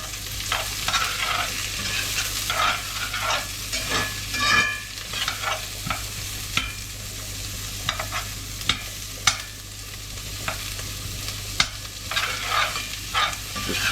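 Onions frying in fat in a pan, a continuous hiss broken by frequent stirring scrapes and clacks of a utensil, close and fairly loud with no voices.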